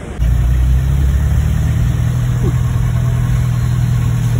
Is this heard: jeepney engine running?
yes